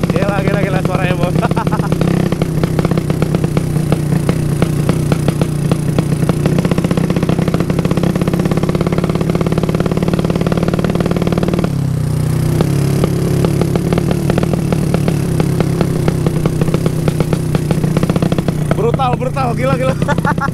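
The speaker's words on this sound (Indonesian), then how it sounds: "Ini motor menggunakan karbu PWK 32 punyanya Kose." A modified 200cc motorcycle engine fitted with a PWK 32 carburetor roars loud and close throughout, its rough, throbbing note rising and falling with the throttle, with people talking over it.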